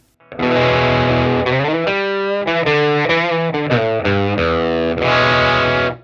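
An electric guitar runs through a drive pedal set for light overdrive, playing loud sustained chords and bends with a slightly dirty, saturated tone, alone without talk.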